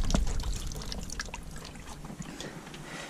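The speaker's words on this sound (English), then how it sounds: "Lovely, got more coolant coming out." Engine coolant drains from a detached hose on a Piaggio Vespa GTS scooter engine, a faint close trickle and dribble of liquid with small clatters of handling.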